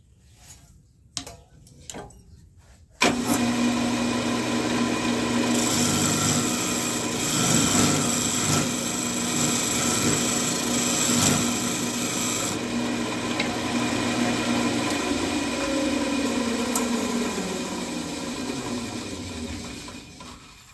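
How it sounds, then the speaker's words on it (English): A scraper shapes the inside of a segmented cherry wood vessel on a lathe, giving a continuous rasping scrape over a steady motor hum. A few light knocks come first, then the cutting runs loud and unbroken. "I really like to use a scraper in this transition so that we have a nice curve"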